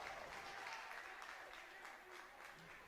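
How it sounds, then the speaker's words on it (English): Applause from a visiting FK Sarajevo contingent in a football stadium crowd, a steady wash of clapping spread across the stands, moderately distant and continuous, with no distinct voices on top. "all the applause is from the Sarajevo contingent down below us"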